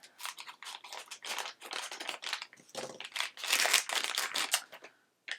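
Crinkly surgical-style plastic makeup packaging being peeled and torn open by hand, a close series of sharp crackling bursts and rustles lasting several seconds, then a brief quiet at the end.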